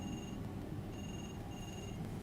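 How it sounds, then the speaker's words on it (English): A telephone rings repeatedly inside the Murdered: Soul Suspect video game, with three evenly spaced electronic bursts over a steady low background hum. "Somebody gonna answer this phone."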